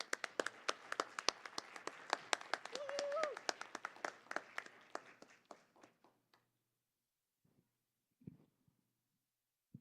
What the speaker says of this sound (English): So if everybody can give her a round of applause.